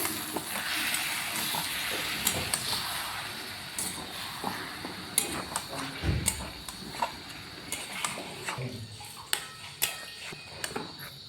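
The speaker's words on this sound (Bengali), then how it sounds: "এবারে দিয়ে দেবো মাশরুমগুলো এবারে এটাকে ভালোভাবে মিক্স করে নেব" Mushrooms are stirred into a spiced masala frying in a pan for a mushroom curry, with a soft, continuous sizzle. Repeated scraping clicks from a spatula come through close up.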